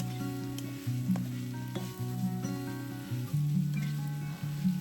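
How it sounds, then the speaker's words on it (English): Vermicelli fries with cabbage, sauces and chicken powder in a hot pan, giving a steady close sizzle with periodic clinks and scrapes of stirring, no talk. "Fry for 2 minutes until the vermicelli is glossy and chewy."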